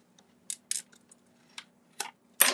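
Scissors make about half a dozen quick, crisp snips as they trim a strip of scrapbook paper. The cuts come close and clear in an otherwise quiet room.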